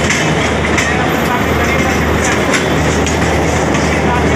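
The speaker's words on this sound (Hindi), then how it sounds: "नई दिल्ली से हैदराबाद जाने वाली तेलंगाना एक्सप्रेस, और इसी के साथ ही अपनी ट्रेन आ चुकी है नई दिल्ली रेलवे स्टेशन पे।" The Telangana Express, bound from New Delhi to Hyderabad, rolls into New Delhi railway station with a loud, steady rumble of wheels on track and faint clicks, while voices of people talking blend into the station noise.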